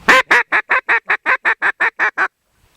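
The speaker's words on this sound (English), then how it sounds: "Just make an excited call." Duck call blown in an excited sequence, about a dozen loud, close quacks in a rapid, evenly spaced descending run, then silence.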